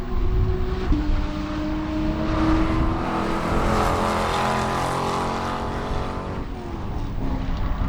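Spec Corvette race cars roar past on a racetrack, a loud sustained engine drone with shifting pitch as cars pass close by, no voices.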